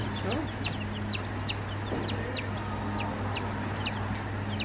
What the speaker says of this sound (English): The little chickens are back.